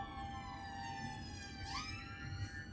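An emergency siren wails outside, steady and moderately distant, its pitch sweeping upward partway through over low traffic rumble.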